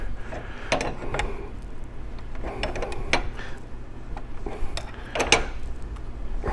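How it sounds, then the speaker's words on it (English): A wrench twisting a tight nut on a Rotax 912iS fuel pump: repeated close creaking, ratcheting clicks and metallic grinding in uneven bursts, with no talk. "it's cutting its way through the nut, and it's getting tighter now because it's pushing more"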